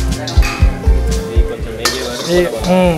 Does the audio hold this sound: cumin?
yes